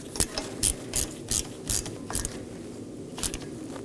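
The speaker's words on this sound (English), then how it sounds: "Now I'm going to snug it down with my T30 Torx bit." A hand ratchet with a T30 Torx bit snugs a set screw on a brake rotor during rear axle seal work on a 2018-2024 Chevrolet Equinox, giving about seven short clicking bursts at a steady rhythm, close and fairly quiet, with no talking.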